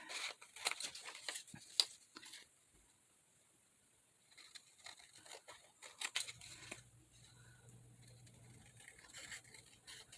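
Scissors cutting out a paper card piece, a series of short crisp snips in the first few seconds with quieter handling and a low hum afterward.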